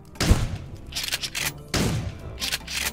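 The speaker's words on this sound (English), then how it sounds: "I love it when FPS games have really good shotguns" Shotgun blasts in the first-person shooter Shatterline, two heavy booming shots about a second and a half apart, each followed by mechanical reload clatter and crunchy game effects.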